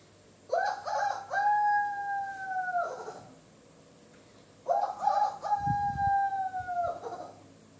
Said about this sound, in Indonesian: tiba-tiba Ujung Perak Budi Besi berkokok dengan suara nyaring sambil mengepak-kepakan kedua sayapnya